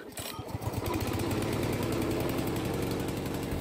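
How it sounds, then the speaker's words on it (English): Pull-cord start of the petrol engine on a wheeled VTW550-90 radio-controlled grass cutter: a few quick sputters, then the engine catches and settles into a loud, steady, close-up running roar. "First, push the throttle forward as well. Then pull the pull cord."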